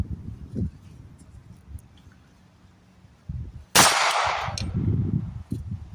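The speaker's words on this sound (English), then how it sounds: "now we have the Energetic Armament Box K on my 300 Blackout, shooting 220 grain Federal" A single suppressed 300 Blackout rifle shot fires 220 grain Federal subsonic rounds through an Energetic Armament Box K micro suppressor into dirt outdoors, a sharp loud crack with a brief rumbling tail after a quiet stretch.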